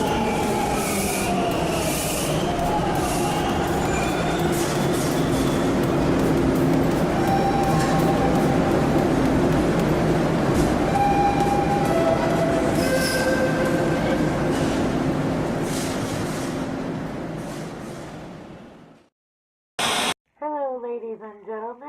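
A train rumbles and rolls past loudly for most of the stretch, with squealing wheels and a clatter, then fades out. A short burst of noise and a wavering voice-like tone follow.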